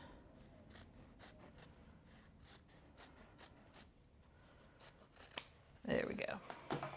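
Scissors snip repeatedly close by as fabric seam allowance is trimmed, a series of quiet crisp cuts followed by louder rustling of cloth being handled.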